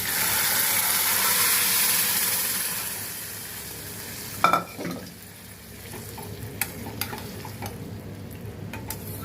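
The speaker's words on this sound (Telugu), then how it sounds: "పప్పులన్నీ బాగా వేగాయి, వెల్లుల్లి వేగింది, ఎండుమిర్చి అన్నీ వేగిపోయి ఇంక ఈ మిశ్రమం వేసేయడమే" Lentils, garlic and dried red chilies fry in hot oil for a tempering, loud close sizzling for several seconds, then scraping stir clatter and a softer, lingering crackle.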